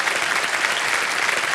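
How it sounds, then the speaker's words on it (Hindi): Studio audience applause on a televised quiz show set, dense and steady clapping filling the whole moment at close, even loudness with no voices over it. "तालियां बजती रहें इनके लिए"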